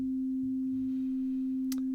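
A quiet, steady synthesized sine waveform from a Teletype module with its CV set to 2 hums as a single pure low tone, with a faint brief click near the end.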